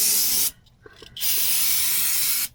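Brake parts cleaner sprays onto a VW engine oil pan in a loud, close, steady hiss, cut off briefly for under a second before spraying resumes and then stops again near the end.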